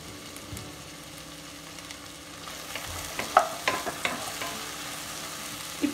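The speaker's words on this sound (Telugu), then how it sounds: "ఇప్పుడు ఈ ముక్కలన్నీ బాగా ఫ్రై అవ్వాలి. మనం ఇలా మీడియం ఫ్లేమ్లో పెట్టుకొని ఫ్రై చేసుకుంటూ ఉండాలి" Onion and tomato pieces frying over medium flame in a pan for palak paneer, a soft continuous sizzle with stirring scrapes and clinks that grow busier in the second half.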